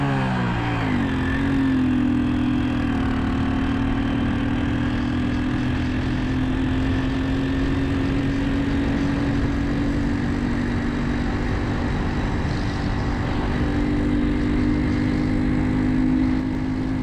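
Old Hero Honda Super Splendor motorcycle being ridden, its engine holding a steady drone at cruising speed with constant wind and road noise, close and continuous throughout.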